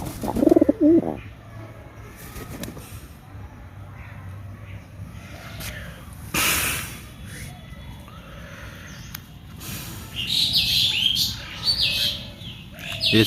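Racing homer pigeons coo in a loft, soft low burbling calls repeating near the microphone alongside occasional chirps, wing flutters and bumps, with a voice speaking at times.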